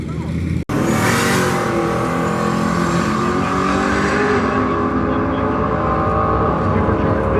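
A supercharged big block drag car roars down the strip at a drag race, a sharp burst giving way to a loud, sustained engine howl that slowly fades as it pulls away.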